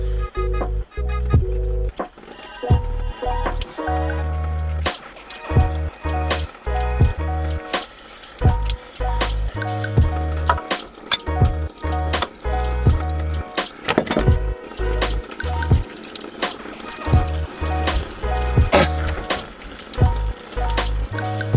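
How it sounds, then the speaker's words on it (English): Water draining from the engine block and manifold drain plugs of a MerCruiser 3.0 marine engine, trickling and splashing in uneven bursts mixed with metallic clinks, fairly close and loud. "Crack them open and let the water drain."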